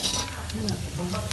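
Dried anchovies frying in a pan and stirred with a utensil, giving a steady dense sizzle with scraping and light clinks of metal against the pan, under a voice talking.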